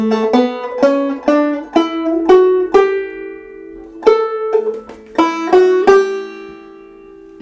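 A plucked string instrument plays a bright, lively Mixolydian folk melody, Old Joe Clark, with repeated ringing notes over a steady low drone, no voices.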